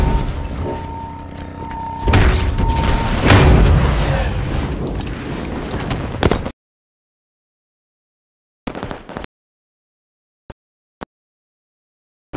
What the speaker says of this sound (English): Switch into a sniper rifle.